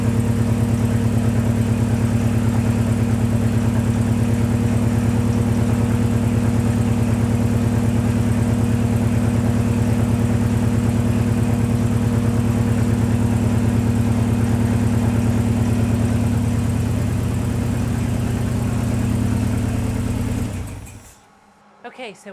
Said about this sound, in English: Cylinder 3 and 4 are both not firing.